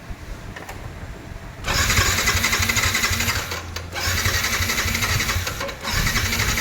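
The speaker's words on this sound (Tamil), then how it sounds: "இப்போ பார்த்தீங்கன்னா வண்டி ஸ்டார்ட் ஆகலை." A Yamaha R15 BS6 motorcycle with an ignition coil fault cranking but failing to start, with loud, close starter-motor whirring in two long bursts separated by a short pause.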